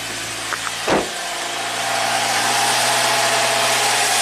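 A 2012 Kia Forte engine idles steadily at high RPM, around 1,700, with a vacuum leak, a loud constant hum with a couple of brief clicks early on before the drone rises slightly and holds.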